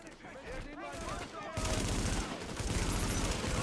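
Automatic turret fire in The Division rattles in a dense, continuous burst that starts loud partway through and keeps going, after a stretch of quieter game sounds and a voice talking at the start.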